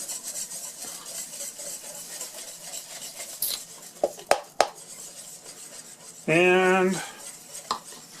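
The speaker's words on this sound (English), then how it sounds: "Sprinkle it in there as you're whisking." A whisk scrapes and clinks in a bowl as a dry ingredient is sprinkled in, with steady soft stirring, a few sharp metal taps and one short squeaky scrape near the end.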